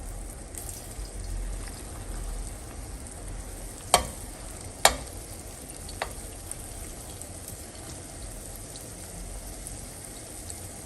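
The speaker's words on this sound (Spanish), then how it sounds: "agregar en un sartén con bastantito aceite y empezamos a hacer las tortitas" Tortitas fry in a pan with plenty of oil, a soft, steady sizzle running throughout, broken by a few sharp utensil clicks against the pan.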